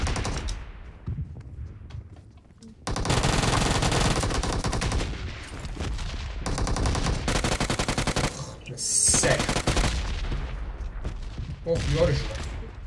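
Rapid bursts of automatic gunfire in the mobile battle game PUBG Mobile, loud and close, rattling in long sustained volleys with brief gaps between them, and a voice speaking at moments amid the shooting.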